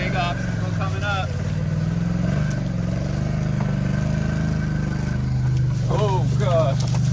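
An off-road vehicle churns through a deep mud bog and hops over logs and a stump, its engine droning steadily and loud throughout, with excited voices exclaiming over it.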